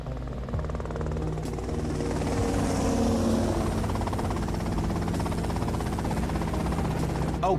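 Helicopter in Grand Theft Auto: Vice City, a steady loud rotor chop and engine drone that holds throughout without any talk.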